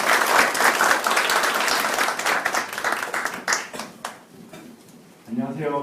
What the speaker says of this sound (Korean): 최정희 이사님을 위해서 박수 한번 부탁드릴게요